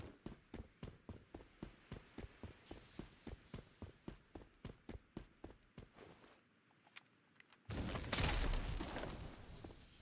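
Rapid, evenly spaced bursts of turret gunfire in a video game keep a steady mechanical rhythm for about six seconds, then stop briefly before a loud, dense blast of noise takes over.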